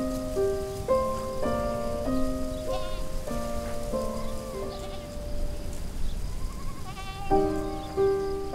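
Goats bleat intermittently amid a steady patter like rain, with repeated musical tones running throughout.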